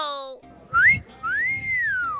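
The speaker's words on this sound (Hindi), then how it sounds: "तुम जरा सीटी मारो" A person whistles two rising and falling notes, a short bright one followed by a longer sustained tone, clear and close, with a brief higher tone and rustling around them.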